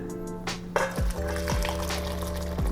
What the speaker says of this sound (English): Strain the soup.